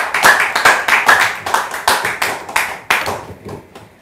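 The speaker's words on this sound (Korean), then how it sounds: "박수를 많이 해주세요." Hearty round of clapping from a small audience at a talk, quick uneven claps close by that thin out and fade toward the end.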